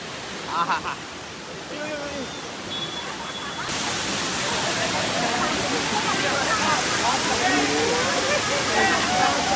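Ambuli Falls, running with low water, makes a steady broadband rush that grows louder and fuller partway through, with faint voices of people nearby.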